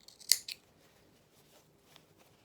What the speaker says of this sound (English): Just be careful you don't snip through anything you don't want to snip through.